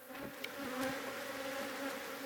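Honey bees buzz around their hives in a steady, droning hum, with individual insects passing close by now and then over the continuous swarm sound.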